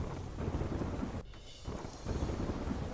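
Heavy monsoon rain pours steadily in the pilgrimage town of Bahucharaji, Gujarat, a dense, close hiss that briefly dips and resumes, with a faint rumble of thunder underneath.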